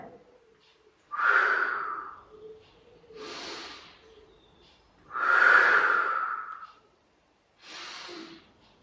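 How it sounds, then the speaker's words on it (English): Slow, deliberate exhales and inhales during a beginner Pilates mat class, four breaths over about nine seconds, each a breathy, slightly whistling rush of air close to the microphone, with no speech over it. "And we're breathing out and in."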